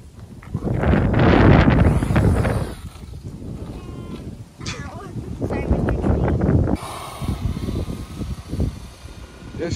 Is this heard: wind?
yes